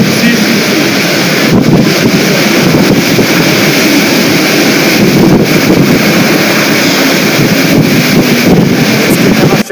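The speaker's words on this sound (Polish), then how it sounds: "Kilkanaście godzin było takiej wichury, deszczu" A cyclone storm in Mozambique brings strong wind and rain that roar continuously and loudly for about ten seconds, with gusts buffeting the microphone.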